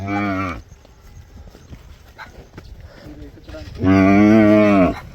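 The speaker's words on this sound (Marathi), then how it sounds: "ही बाह्या शेटचं वासरू ह्याचं नाव आहे व्ही आय पी नाना" A calf on a village farm lets out two loud, close moos, one short call at the start and a longer one near the end, with quiet rustling in between.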